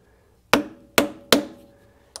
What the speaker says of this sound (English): hammer this through there